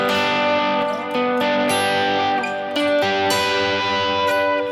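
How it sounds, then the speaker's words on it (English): Electric guitar strums full three-note triad chords in a worship style, a clean sustained tone ringing out with several chord changes struck every second or so, close and steady without any talking. "because if you did play all the notes of the triads, it would sound like this"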